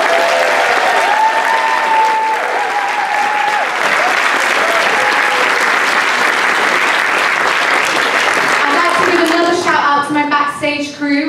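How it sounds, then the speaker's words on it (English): Loud, sustained audience applause for a Year 7 and 8 school drama club's winter show, a dense wash of clapping filling the hall for the full stretch, with a few tonal sounds and voices rising near the end. "We give them one more round of applause."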